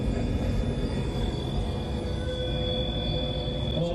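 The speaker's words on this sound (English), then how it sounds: "That cricket's so loud, it's annoying." A loud cricket chirps in a steady high-pitched trill over a low background hum and murmur, continuous and close.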